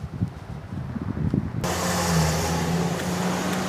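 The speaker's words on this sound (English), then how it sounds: "Oh, that's a cool car." A car drives along a Toronto street, its engine rising to a steady roar of tyre and motor noise after a quieter stretch of street ambience, fairly close.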